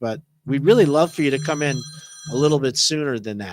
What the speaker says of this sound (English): And yes, that's my phone. Somebody keeps trying to call me.